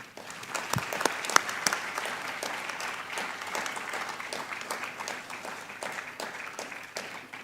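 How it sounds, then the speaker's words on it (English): Long, steady applause from a large audience at the inauguration ceremony for the 77th batch of Indian Revenue Service officer trainees, dense and even throughout with a few sharper claps standing out near the front. "So let us welcome them with a long round of applause"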